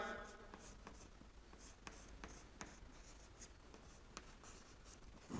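Chalk or marker strokes on a classroom board while a chemistry lecture on amines is written out, a faint, steady series of scratchy taps and scrapes with room hiss and no talking.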